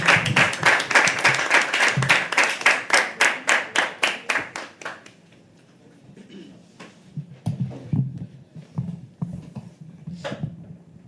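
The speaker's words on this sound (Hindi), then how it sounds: "एक बार जोरदार तालियों से स्वागत कीजिए मुस्कान का" A live poetry open mic audience claps to welcome a performer: loud, rhythmic clapping for about five seconds that fades out, followed by quieter scattered claps and faint room noise.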